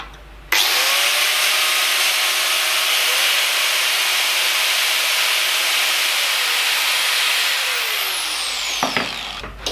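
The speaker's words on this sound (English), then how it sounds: "Let's do grinders." Angle grinder powered by a Bluetti AC200 Max portable power station, spinning up with a sudden loud start and a steady high whine held for about nine seconds before winding down.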